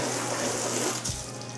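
Water poured over a freshly waxed Suzuki GSX 150 motorcycle makes a steady, close hiss of flowing and splashing water for under two seconds, with no voices.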